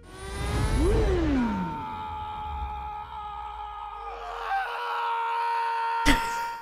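A professional film screamer lets out a loud, sweeping scream that rises and falls, followed by a sustained, wavering tonal cry and an abrupt sharp burst near the end.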